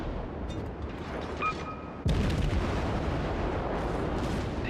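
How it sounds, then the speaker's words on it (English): Destroyer Gremyashchy's main guns fire a barrage in World of Warships, a sudden heavy boom midway rolling into sustained loud rumble over steady ocean ambience. "And now we can continue the barrage on this very unfortunate New York."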